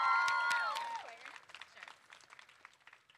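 Audience clapping at a school spring music concert, breaking out after loud sustained tones at the start and continuing as scattered, thinning claps that fade toward the end.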